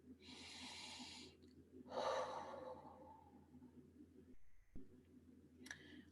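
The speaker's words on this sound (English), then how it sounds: "just take a deep breath" A deep, slow breath in and out during a guided meditation with hands on hearts, the soft airy inhale and exhale close and clear, followed by a short pause and a quieter second breath.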